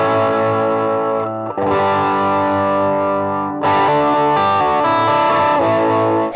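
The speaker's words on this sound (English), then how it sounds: "For my overdrive pedal today, I'm using the B-Tronics Wannabe." An electric guitar played through a B-Tronics Wannabe overdrive pedal rings out loud and close, with sustained overdriven chords that change twice, and no voices.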